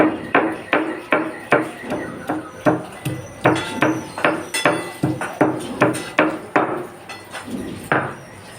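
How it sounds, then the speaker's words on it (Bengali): Garlic and onion are pounded and ground on a stone grinding slab, giving a close series of regular, sharp knocking strokes, about two per second, with no voices. "এবার শিলে রসুন পেঁয়াজ আর নিয়ে বেটে রাখবো"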